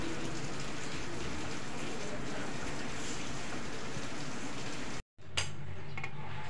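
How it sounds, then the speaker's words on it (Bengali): Steady rain falls outdoors around a village home kitchen, a dense, constant loud hiss that briefly cuts out near the end before resuming. "সকাল থেকে বৃষ্টি হচ্ছে।"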